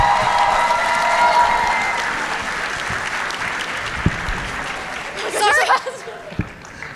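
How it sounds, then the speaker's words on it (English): Audience applause at a Tampa comic convention cosplay contest, a broad wash of clapping and some cheering that gradually thins, with a few louder claps and a voice rising near the end. "So one more round of applause."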